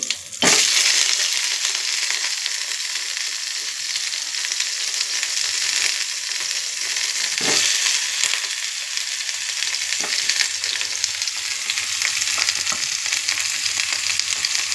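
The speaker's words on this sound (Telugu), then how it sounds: "ఇప్పుడు వంకాయలు వేసుకొని ఆ నూనెలోనే, కొద్దిగా నూనె ఉంది, ఆ నూనెలోనే వేయించుకుందామండి." Eggplant pieces fry in a little oil with a loud, steady hiss close up, punctuated by a few sharp knocks and scrapes, with no talking.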